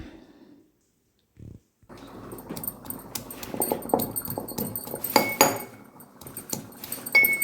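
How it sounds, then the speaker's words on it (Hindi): Spices being pounded in a stone mortar and pestle (khalbatta) while making chana saag: repeated close, uneven knocks and gritty clacks of stone on stone, growing busier and louder as the pounding continues. "मैं तो खलबट्टे में इस सारी चीज़ों का मसाला तैयार कर रही हूँ।"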